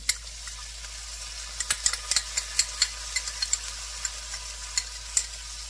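Garlic cooks in two tablespoons of butter in a pan for a sauce, a soft background sizzle broken by sharp, irregular clicks of a utensil stirring.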